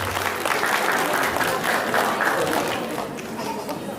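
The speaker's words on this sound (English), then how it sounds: "give a big round of applause," Sustained loud applause from a festival audience at a cultural festival, dense overlapping clapping with crowd murmur and some voices underneath, holding steady throughout.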